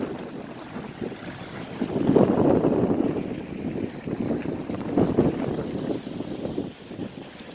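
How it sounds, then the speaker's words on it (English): Steady wind of about 20-25 km/h gusting across the Bay of Quinte, a broad rushing roar that swells and eases in loud waves against the microphone, with no voices. "A bit breezy out here, but a 20-25 kilometer an hour wind blowing up"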